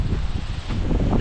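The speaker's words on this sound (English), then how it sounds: "You can hear that wind." Wind gusts at a creekside park in Hamburg, Pennsylvania, rumbling as steady low buffeting against the microphone for the whole moment, with no voices.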